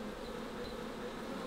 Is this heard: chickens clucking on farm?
no